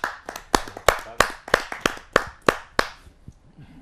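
About nine sharp, separate hand claps ring out at an uneven pace at a Hindi kavi sammelan poetry gathering, greeting poet Pradeep Singh Chauhan, fading into quiet by the end.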